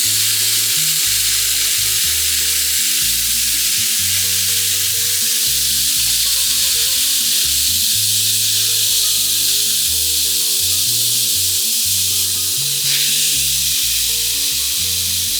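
Skirt steak and chicken for fajitas searing on a griddle at 500 degrees, giving a loud, continuous, close-up hiss and sizzle with low background music underneath.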